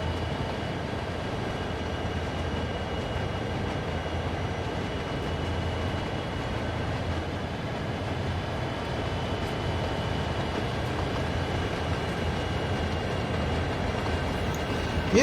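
A US freight train in Train Sim World 2, two locomotives hauling about nine hoppers through dark territory, rumbles in a steady low drone with a faint hum, continuous and even, no one talking.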